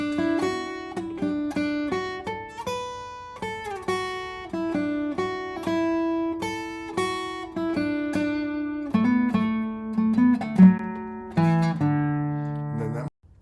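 A plucked string instrument plays the clear single-note second-section melody of "Sheebeg Sheemore", notes ringing and decaying in an unhurried rhythm, close and moderately quiet, with no talking.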